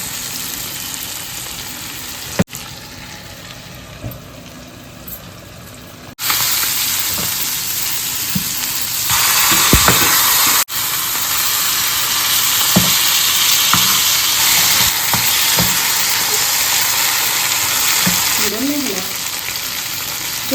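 Fish pieces sizzle steadily on a tawa over a low flame in a spicy home-style fish fry, with a loud continuous hiss broken by a lid being set down and stirring knocks partway through.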